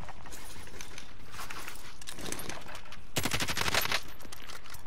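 Gunfire in the Warzone video game comes as bursts of rapid automatic shots, with scattered rattling volleys and a louder, denser burst near the end, plus faint mechanical clicks between them.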